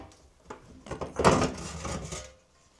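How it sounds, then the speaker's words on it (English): Flathead screwdriver prying plastic tabs open on a Broan bathroom exhaust fan, a close series of scraping clicks and knocks that builds to a louder cluster in the middle, then fades. "I'm going to use a flathead screwdriver to pry some tabs open so we can release"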